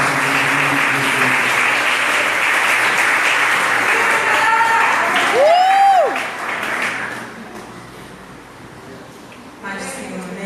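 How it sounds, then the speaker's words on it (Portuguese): A church congregation claps together for about six seconds in a dense, loud burst that fades, with a voice and a brief sung or spoken tone rising over the applause before a short quieter stretch. "dá um salve de palmas ao Senhor"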